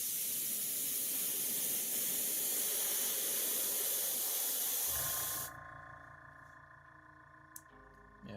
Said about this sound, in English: let's see if I can airbrush on camera.